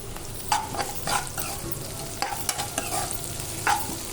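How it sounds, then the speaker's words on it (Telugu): Ginger garlic paste fries with onions in a pan, giving a steady sizzle punctuated by several distinct scraping strokes of a spatula stirring close by, with no talking. "ఉల్లిపాయ వేగాక అల్లం వెల్లుల్లి పేస్ట్ వేసుకొని పచ్చి వాసన పోయేంత వరకు వేయించుకోవాలి"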